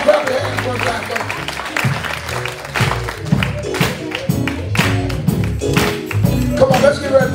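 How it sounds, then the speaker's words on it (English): A church congregation at a Christmas worship service claps along in a rhythmic series of sharp claps, mixed with music and a voice speaking over it. "clap your hands one time"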